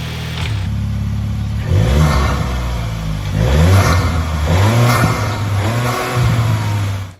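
A Volkswagen Tiguan engine fitted with a Neuspeed cold air intake revs repeatedly, rising and falling in several loud, close pulls over a steady idle hum, with no talk.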